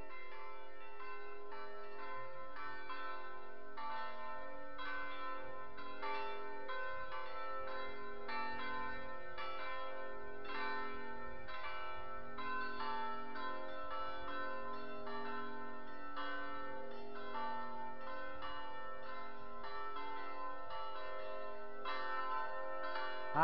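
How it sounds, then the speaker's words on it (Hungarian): Church bells of the Reformed church in Kádárta, a Hungarian village, peal continuously with steady overlapping strokes, loud and sustained, ringing alone without talk. "Hát eléggé jó húzzák a harangot."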